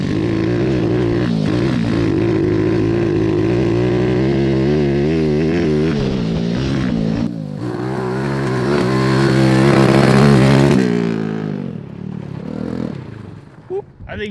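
The engine of the homemade go-kart "Yard Dart", running rough on a lap, drones with a steady buzzing hum, swells as it passes close, then fades away, with people talking over it.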